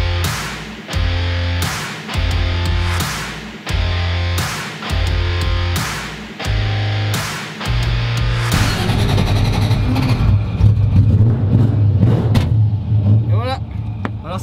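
An old car's engine is revved in a series of short, loud, evenly spaced bursts with brief gaps between them, then settles into a sustained roar with rattling.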